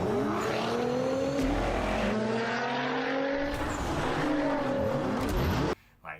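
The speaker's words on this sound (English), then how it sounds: "here we hear sound clips of the car." A high-revving Nissan 400Z sports car engine roars loudly, pitch climbing through repeated gear shifts, then cuts off abruptly near the end.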